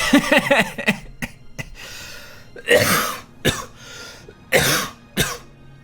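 Several harsh coughs and throat-clearing bursts in quick succession, loud and close, with short breathy pauses between them.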